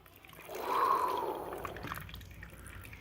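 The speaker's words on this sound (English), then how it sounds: "Right here, you got the water that comes out." Water trickling out of a Hot Wheels Gator car wash toy: a faint splashing rush that swells briefly, then eases into a quiet dribble.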